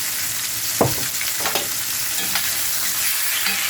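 Salsa being stirred into a sizzling pot of Mexican pozole: a few soft scraping stirs and splashes over a steady, close frying sizzle.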